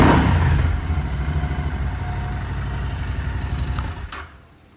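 A Royal Enfield motorcycle fitted with a K&N air filter revs hard at first, then its engine drops back to a steady, throbbing run before cutting off near the end, loud and close, no talk.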